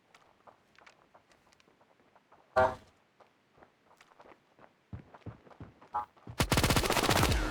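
Gunfire in the mobile shooter Standoff 2, with soft footsteps and small clicks leading to a single loud shot, then a few more shots and a long, loud automatic burst at the end.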